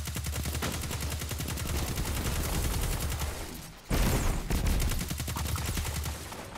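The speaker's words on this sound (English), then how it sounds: "This pistol is popping." Pistol gunfire in the video game Paladins: rapid, sharp shots fired in a fast, steady rhythm, loud and nearly continuous, with a brief pause midway before the firing resumes.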